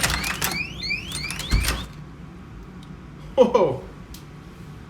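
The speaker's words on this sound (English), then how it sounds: "They had a tamper alarm on it." A hotel lock security device's tamper alarm sounds in short, sharp electronic bursts near the start, followed by a clatter, with a person exclaiming over it.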